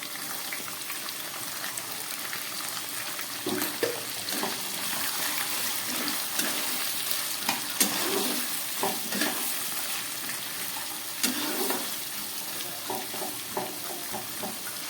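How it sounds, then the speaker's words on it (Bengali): Carrots frying in ghee in a pan for govindobhog rice pulao, a steady close sizzle with intermittent stirring scrapes and soft clatters throughout, no talking. "এবার এর মধ্যে আমি এই গাজরগুলোকে ভেজে নিচ্ছি।"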